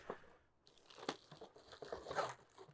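A car head unit sealed in a plastic bag gets handled up close, giving irregular quiet crinkles and crunches.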